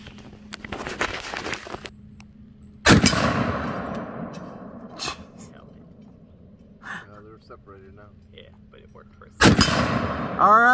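Rifle shots ring out at an outdoor target range, two sharp loud cracks with long decaying echoes about six seconds apart, plus a fainter report between them, while people talk in the background.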